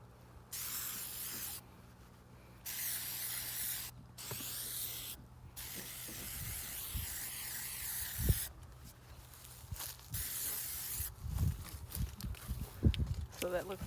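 Amsoil Mudslinger sprayed liberally from a shaken aerosol can outdoors on a windy day, coming as several long, loud hissing bursts with pauses between them over a low wind rumble.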